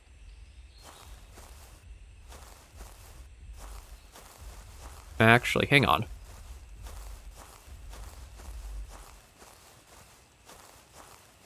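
Heavy footsteps of a Rex in the video game Prehistoric Hunt thud in a slow regular rhythm at a distance, continuing throughout, while a player briefly speaks over them midway.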